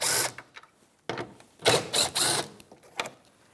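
A power tool with a 10mm socket backs out the tail light mounting screws on a 2013–2018 Toyota RAV4, giving several short, close whirring bursts separated by brief pauses, with no talking.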